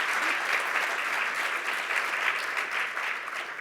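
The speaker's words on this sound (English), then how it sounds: "Let's give them all a round of applause." Sustained audience applause at a panel event with expert speakers, a dense, steady wash of many hands clapping at even loudness throughout, with no voices on top.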